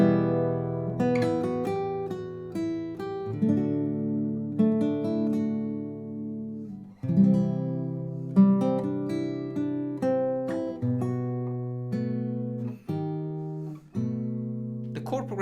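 A simple Spanish melody played on guitar, plucked notes ringing over a low bass line in a steady, unhurried rhythm, close and clear with no talking.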